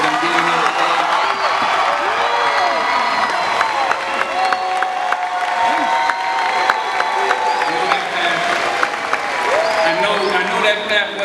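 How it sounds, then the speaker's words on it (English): Loud, dense applause and cheering from a large crowd honoring graduates at a Gar-Field High School graduation in Virginia, with whoops and shouts rising over steady clapping throughout. "I want the crowd to give them the loudest round of applause you can"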